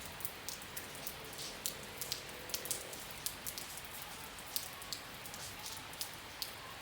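Light rain falls in a garden, a steady soft hiss with scattered close drip taps, faint and continuous with no talking.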